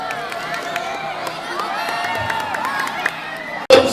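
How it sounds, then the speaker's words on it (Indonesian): A school audience at an OSIS student council election event claps and cheers in a steady, loud wash of crowd noise, with an announcer talking over it and a louder burst near the end. "Tepuk tangan."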